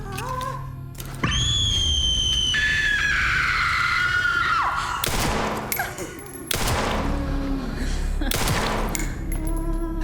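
High-caliber pistol gunshots in the video game Resident Evil Requiem, several loud sharp blasts spread across the clip over a dense backdrop of game effects and a rising scream-like tone.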